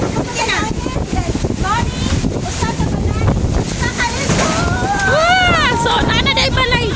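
Strong gusty wind in the aftermath of a typhoon in the Mactan area, roaring steadily and buffeting the microphone, with people talking over it throughout.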